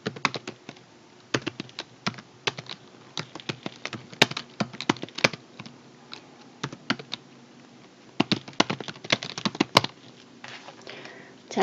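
Keystrokes tapping on a computer keyboard while entering text in a PowerPoint 2016 slide, a steady run of quick clicks in bursts with brief pauses, close and fairly quiet, no voice.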